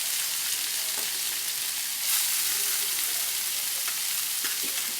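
Radish greens fry in a pan with a soft, steady sizzle and bubbling hiss, moderately quiet and continuous, broken by a few faint stirring clicks and one brief louder surge near the middle.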